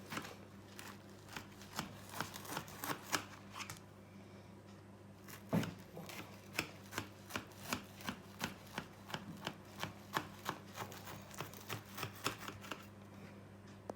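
A knife cuts through layered Armenian pakhlava on a board, making a long run of quiet, rhythmic taps and crisp crunches close by with only faint background noise.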